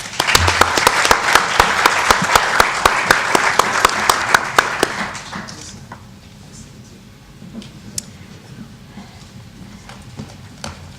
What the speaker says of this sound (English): One more round of applause, please, for this panel